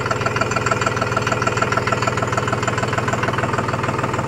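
Close, steady idle of a new VST Zetor 4511 tractor diesel, an even rapid firing beat with a faint knocking rattle running unbroken throughout, no voices over it.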